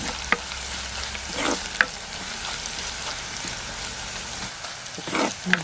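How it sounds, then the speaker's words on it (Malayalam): Chili flakes frying in hot oil with browning onions for a green chilli curd curry, giving a steady close crackling sizzle with a few soft scrapes of stirring and no voices. "ഇതിലോട്ട് ഒരു സ്പൂൺ ചില്ലി ഫ്ലക്സ് കൊടുക്കാം അതും ഒന്ന് മൊരിയട്ടെ"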